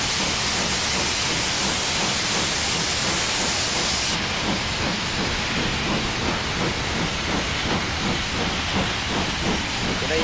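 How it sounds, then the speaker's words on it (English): Two steam locomotives double-heading the Moorlander train at a heritage railway gala, a steady broad roar of exhaust and hissing steam filling the scene, with a faint rhythmic beat emerging toward the end. "the double head of steam locos on the Moorlander"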